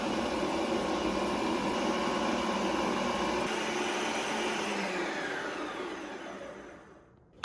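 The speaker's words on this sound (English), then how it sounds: "So back in the machine for another spin. This time we'll just use the respin option." A Ninja CREAMI ice cream maker runs its respin cycle, a loud steady motorized whirring and grinding that shifts pitch partway through, then winds down and stops near the end, heard alone.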